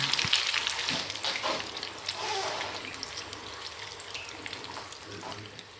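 Steady sizzling and bubbling of a wet spice paste frying in a pan until its water cooks off, with occasional stirring scrapes, fairly soft and continuous.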